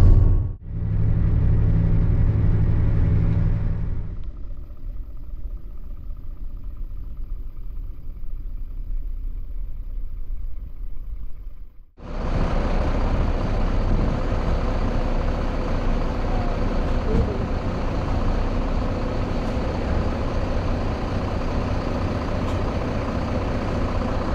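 SVT Tranzs coach on the Coimbatore to Chennai route: a deep engine rumble gives way to a quieter lull, then a steady, loud road drone sets in as the bus moves off, with no talk.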